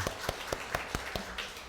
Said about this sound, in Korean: 우리 환영의 박수 드리겠습니다